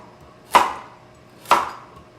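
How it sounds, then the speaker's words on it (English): Two sharp knife chops through washed whole vegetables on a cutting board, trimming tops and bottoms for homemade chicken stock, spaced about a second apart, close and crisp, each with a short decay, no talking. "So I'm gonna cut the tops, bottoms, and then same with this"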